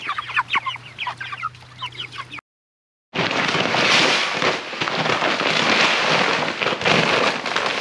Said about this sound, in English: chickens have been getting out of the coop, and that's not good.